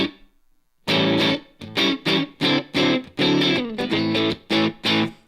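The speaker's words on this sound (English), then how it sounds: "Let's add a reverb at the end of the chain here" Electric guitar played through a Line 6 Helix amp model with a dynamic ambience reverb, strummed chords in repeated bursts with short gaps, distorted and loud, each hit trailing a brief room-like tail.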